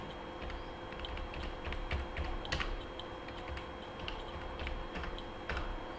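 Keys clack on a computer keyboard during data entry in Tally Prime accounting software, a quiet, uneven run of close taps over a low room hum.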